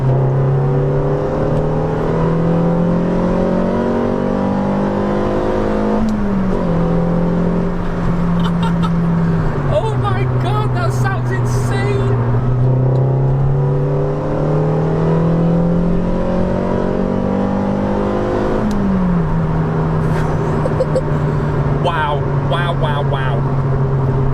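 A car engine fitted with Newman cams and a custom remap pulls hard through the gears, its drone climbing in pitch, dropping at each shift and rising again, with someone talking over it.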